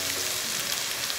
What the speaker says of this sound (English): Saute the whole thing.